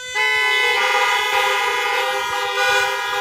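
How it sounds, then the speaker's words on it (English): Several car horns blare together in a church parking lot after a worship service, forming one loud, sustained chorus of overlapping tones lasting several seconds. "Let us have a thanks be to God honk before we leave this morning."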